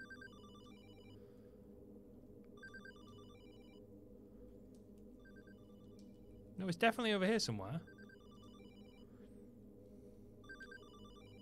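An old telephone rings in the horror game Hollowbody, repeated trilling bursts at a steady rhythm over a low ambient drone, with someone speaking briefly in the middle.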